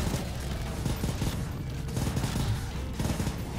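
Rapid gunfire from Call of Duty: World at War zombies mode crackles almost without pause, dense bursts of shots overlapping throughout at steady game volume, with no talk heard.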